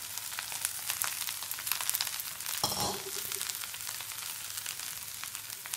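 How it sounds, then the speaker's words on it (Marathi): Vegetables go into hot oil with crackling mustard seeds, a close, dense frying sizzle with popping crackles throughout and a sharp burst of hissing as the food hits the pan midway. "राई तडतडेपर्यंत भाजी घालूया फोडणीला"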